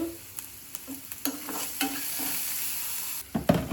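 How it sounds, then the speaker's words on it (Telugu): Food sizzles steadily in a pan while a utensil scrapes and taps through it in short stirring strokes, louder scraping near the end. "ఇది కొంచెం మంచిగా ఫ్రై అయిపోయింది."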